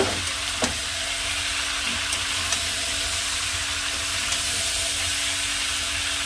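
Drumstick and pumpkin curry bubbles and sizzles in a pan, a continuous close hiss with a few clinks of stirring, and no talking.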